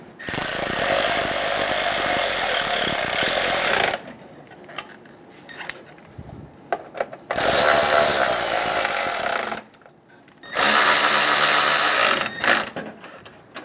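A power tool snugs down the bolts on a side bumper bracket of a 2014-2018 Chevrolet Silverado 1500, three loud sustained bursts of whirring and rattling separated by quieter gaps with faint clinks.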